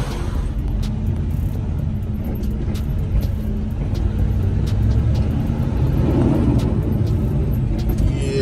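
A Werner semi truck rumbles as it is driven slowly to another fuel island at a truck stop, a steady loud low engine drone with occasional clicks, heard close from inside the cab with no talking.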